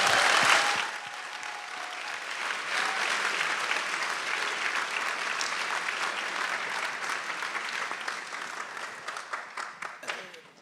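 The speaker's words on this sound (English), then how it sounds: "Give her another big round of applause." Loud crowd applause rings out for Bonnie at a political event with Jeremy Corbyn, a dense sustained wash of clapping that swells at the start and thins into scattered claps near the end.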